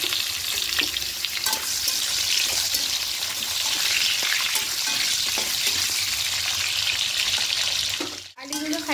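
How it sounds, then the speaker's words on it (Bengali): Cut potatoes fry in mustard oil in a wok with a loud, steady, close hissing sizzle and occasional stirring scrapes, which drop off abruptly near the end. "এখানে আলুগুলো দিয়ে একটু লাল লাল করে ভেজে নেব।"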